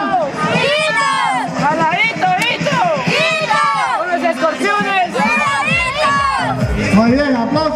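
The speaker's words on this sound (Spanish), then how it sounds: "Escuchemos. Escuchemos esta porra." A group of school students on a team chants its cheer loudly in unison, with rhythmic shouted phrases, whoops and crowd noise, ending in an excited shout.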